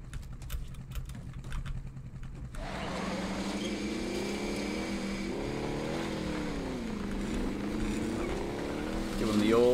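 A vehicle in the video game Warzone starts up after a quiet stretch. Its engine drone holds steady and then swells louder toward the end.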